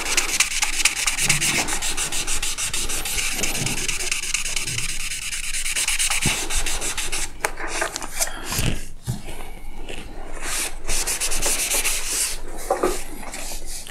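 Close, continuous rubbing and scraping while one photo-etched fuel tank part on a model tank fret is cleaned on both sides, a dry sanding-like scratch that comes in uneven strokes and pauses, with no talking.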